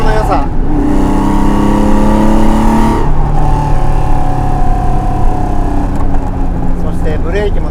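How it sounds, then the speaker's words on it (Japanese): A Porsche 911 T SC RS in LeMans spec accelerates hard along a Tokyo street, its engine climbing loud and close through rising revs, with a shift, then pulling again under someone speaking. "この加速の良さ、"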